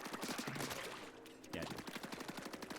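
Rapid gunfire from a Splatoon video game rattles in quick repeated bursts with a short pause midway, loud and rhythmic, with no talking over it.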